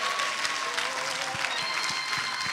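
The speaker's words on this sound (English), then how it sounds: "Come on, clap your hands for Jesus." A church congregation claps hands during a prophetic prayer service, a sustained wash of applause with soft low thumps underneath.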